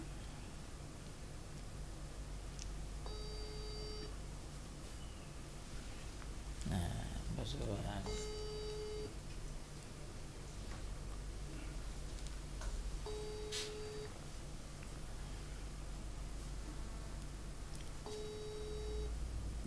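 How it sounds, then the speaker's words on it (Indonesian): An unanswered telephone call's ringback tone repeats in evenly spaced beeps over a steady hiss, with a brief muffled burst of noise partway through and no answer. "hanya nada dering selalu saja yang berbunyi namun tidak respon"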